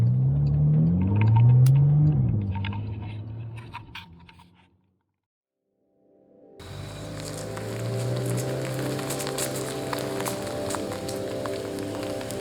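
Exhaust of a Porsche Panamera 4S rumbles low and steady, drops away into a few seconds of silence, then returns as a broader, louder drone that keeps going to the end, with no voices.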